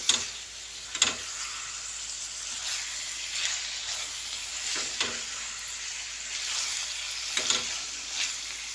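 Onions and spices for an egg and onion dish fry steadily in a pan, with a soft continuous sizzle and a few distinct clacks of a spoon against the pan spread across the stretch.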